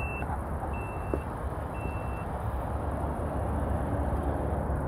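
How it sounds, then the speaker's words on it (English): Three short, thin electronic beeps from the power tailgate of a 2020 Maserati Levante SQ4 Gran Lusso, evenly spaced over a steady low outdoor rumble, followed by the faint hum of the trunk closing. "Press it once, it'll beep and close."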